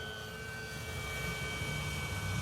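Steady droning motor of a Flex Mamba 10 G2 RC airplane flying slowly overhead, continuous and moderately distant, with a faint high whine.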